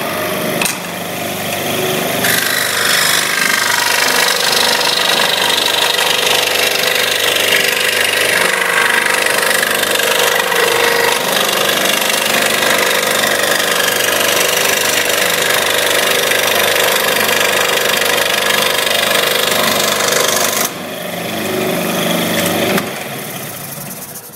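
A powered saw cuts the base of a pencil case, with a loud, steady whining motor drone that runs for about twenty seconds before dropping off briefly and returning.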